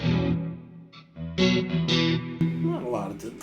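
An electric guitar through a reverb pedal rings out in strummed chords with lingering, washed-out reverb tails, broken by brief pauses between phrases.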